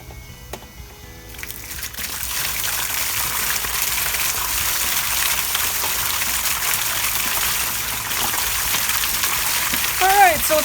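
A basalt column fountain in a converted pond starts up after its pump is switched on, and water surges into a steady, loud splashing rush that holds evenly throughout.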